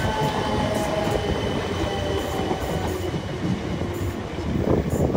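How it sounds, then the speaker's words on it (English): South Western Railway Class 455 suburban electric train passing at Clapham Junction: a steady, loud rumble of wheels and motors with faint rhythmic rail clatter, lasting throughout. "Now a few suburb South Western Railway trains here as well. These are the 455s."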